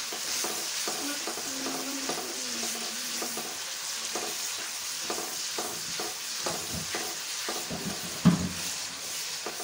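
Steady sizzling of garlic, ginger and green chili paste frying with onions in a pan, with stirring scrapes and occasional clinks throughout, continuous and close.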